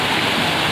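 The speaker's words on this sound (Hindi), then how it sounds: "अभी मेरा वॉइस थोड़ा धीमी आएगा क्योंकि पानी की बहुत आवाज़ आ रहा है" Sanaghagara waterfall at Kheojhara, Odisha, roaring as a loud, steady wash of rushing water that fills everything, heard close with no talk over it.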